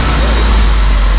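A warmed-up IZH Planeta 5 motorcycle engine idles in a garage during a wiring rebuild, a loud, steady low rumble with a constant hum and no breaks.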